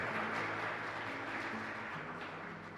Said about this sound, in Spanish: creo que merece un agradecimiento con este fuerte aplauso